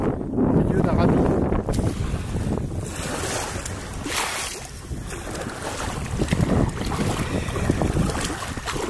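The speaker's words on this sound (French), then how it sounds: "On est dans le vent et dans les vagues." Wind and choppy waves buffet a Klepper folding sailboat in a river rapid. Loud, constant rushing and splashing runs throughout with heavy wind noise on the microphone, and voices can be heard talking over it.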